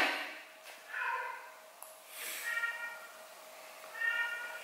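A cat meows from downstairs in a home, three drawn-out meows at moderate level spaced over a few seconds, with faint room noise between them.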